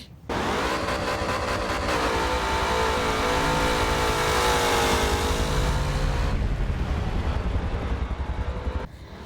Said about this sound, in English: V8 engine option with an optional Ram Air 4 intake